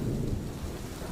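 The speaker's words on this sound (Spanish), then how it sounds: "el único sonido era el de las gotas golpeando el asfalto" Steady rain pours onto asphalt on a lonely road with a low, continuous rumble of thunder underneath, a dense, even wash of sound with no talk.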